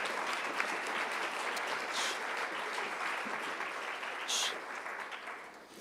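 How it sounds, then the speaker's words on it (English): An audience at a school band concert applauds the students, a steady wash of clapping at moderate distance with a couple of brief louder bursts of cheer. "So if we could just give a round of applause to our outstanding students tonight."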